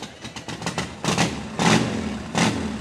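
A Harley motorcycle engine idles with a few sharp pops, then revs loudly in repeated bursts close by.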